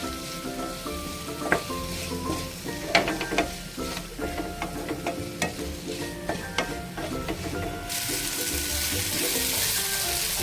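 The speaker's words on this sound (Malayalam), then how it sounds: "പിന്നെ പച്ചമുളക്, നമ്മൾ കുറച്ച് മാറ്റി വെച്ച വെളുത്തുള്ളിയും കൂടി ഇതിലേക്ക് ആഡ് ചെയ്യാം. നന്നായിട്ടൊന്ന് വഴറ്റാം" Tomato, green chilli and garlic sautéing in a pan for a kadukka fry, with a close, continuous sizzle and a run of quick scraping stir strokes, then a steadier hiss near the end, no talk.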